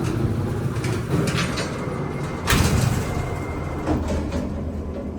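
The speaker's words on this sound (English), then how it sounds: "Door close." A 2019 Excel hydraulic freight elevator door at King of Prussia Mall slides shut with a steady rumbling roar and a heavier clunk midway, loud and close, with no voices.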